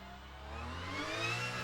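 A Porsche 992 Cup car engine in the racing game rFactor2 rises in pitch over a short, faint stretch, a smooth rev climbing steadily.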